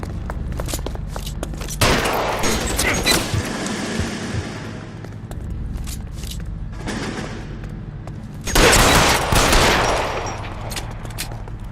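Gunfire in the L.A. Noire video game, heard as repeated close, sharp shots in bursts with a heavy volley near the end, sometimes overlapping and echoing, with almost no speech.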